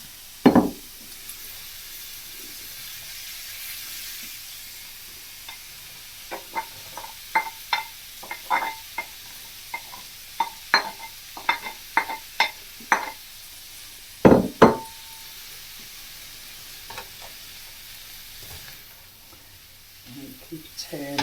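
Cabbage fries with sausage in a pan, a soft continuous sizzle broken by a run of irregular clacks and scrapes as a utensil stirs and turns the food, louder knocks standing out near the middle.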